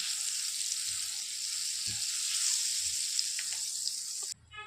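A buttered chapati for a chicken roll fries on a pan with a soft, continuous sizzle that cuts off abruptly at the end.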